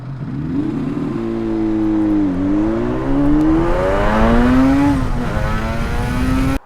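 Yamaha RD350 two-stroke motorcycle engine revving loud and close, pitch climbing and dipping through several throttle sweeps before cutting off abruptly, with no voices.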